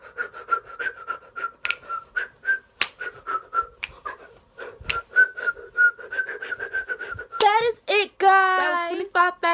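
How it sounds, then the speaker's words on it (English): Someone whistles a wavering, breathy tune in short repeated notes, then ends with a few louder, sliding whistled bursts. "I can barely whistle."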